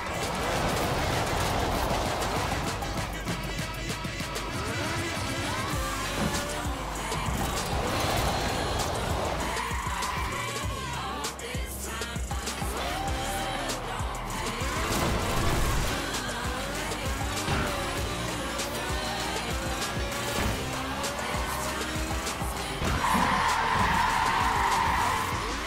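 A car drifting and skidding in the racing game Forza Horizon 4, with engine roar and repeated tire squeals rising and falling continuously over a busy game soundtrack.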